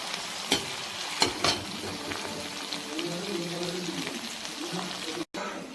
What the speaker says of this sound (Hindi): ଅଦା ରସୁଣ ଛେଚା ତେଲରେ ପକେଇଦେବା लो फ्लेम रे କିଛି ସମୟ ପାଇଁ ତାକୁ ଭାଜିବା